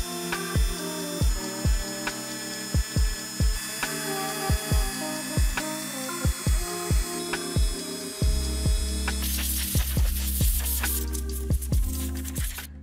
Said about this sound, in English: Next step, with the Dremel, we're gonna go in and get it nice and smooth.